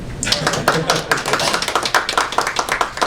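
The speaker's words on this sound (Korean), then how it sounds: "박수 안 치시나요?" An audience at a Democratic Party political announcement claps steadily, a dense, fairly loud patter of many hands that continues for a few seconds with a voice speaking over it.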